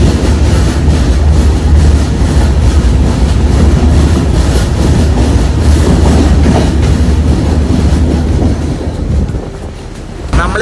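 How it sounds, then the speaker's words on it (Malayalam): An LHB Jan Shatabdi train to Madgaon rolls through a long tunnel, a loud, steady, enclosed roar of wheels and carriages with rhythmic rail clatter running close and unbroken throughout. "ട്രെയിൻ ഇങ്ങനെ ഉരുട്ടിക്കൊണ്ടിരിക്കുക"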